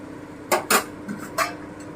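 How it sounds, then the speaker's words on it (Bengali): A lid goes onto a pot of simmering moong dal with pointed gourd, giving a few sharp metallic clinks and clatters close by, spaced over about a second, with no talk. "এবারে আমি ঢাকা দিয়ে দিচ্ছি দশ মিনিট মতো"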